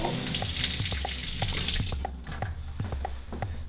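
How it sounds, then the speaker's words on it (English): A brewing line fitting is rinsed under a running tap, with water gushing steadily into a sink and splashing unevenly, then the flow turns lighter and patters in a series of dripping splashes. "Actually, first I'll rinse this out."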